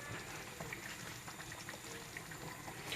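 Ghanaian egg stew simmering in a pot, a steady low bubbling and hiss with faint scattered pops, continuous and fairly quiet throughout with no talking.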